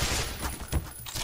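Rapid bursts of gunfire from the shooter game Black Mesa crackle in several loud, close shots packed into about a second.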